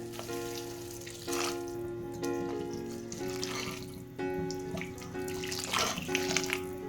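Water pours steadily and continuously into a cooking pot for wheat rava kichadi, a rushing, splashing stream that stays at a constant level throughout, with no voices.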